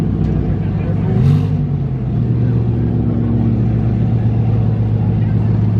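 A tuned Infiniti Q50 engine idles with a deep, steady rumble close by, with a brief rev swell early on. Voices talk over the engine.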